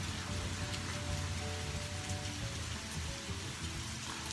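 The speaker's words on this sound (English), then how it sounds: "Look at all the rain, dudes." Steady rain pours outdoors near a tree, a dense, even patter of drops hitting surfaces, constant and fairly faint throughout with no talking.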